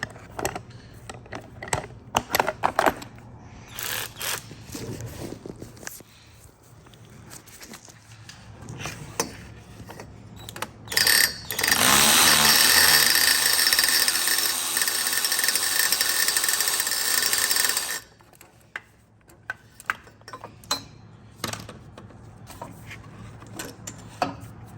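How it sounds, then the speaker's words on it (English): An electric ratchet backs off a bolt during brake and rotor work on a Lamborghini Huracan, giving one sustained whirring burst of about seven seconds between scattered clinks and taps of tools. "I'm just gonna grab my electric ratchet, put this in the electric ratchet, and then try to back it off that way"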